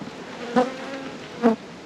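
Honey bees hum at an open hive on a rainy day, a steady low drone with two louder swells as bees fly close by; no talking.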